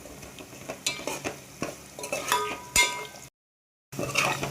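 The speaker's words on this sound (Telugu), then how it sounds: "చూడండి మంచిగా వేగుతుంది," Avakaya mango pickle frying in oil with rice in a pan, soft sizzling broken by irregular scraping stirs and clinks of a utensil, close, with a brief silent gap near the end.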